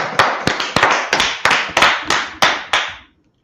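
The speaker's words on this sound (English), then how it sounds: "All right, let's clap it up for the class." A class applauds in about nine sharp, rhythmic bursts of clapping, each hit ringing briefly before the next, close and fairly loud, then stopping abruptly into silence.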